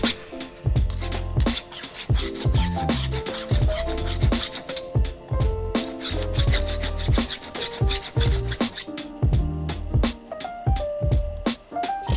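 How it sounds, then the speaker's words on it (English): A hand file works over a solder joint on a 22k gold ring in quick, rhythmic back-and-forth strokes, a close, scratchy rasping that repeats steadily throughout with no speech. "now time to clean up the solder joint with the file"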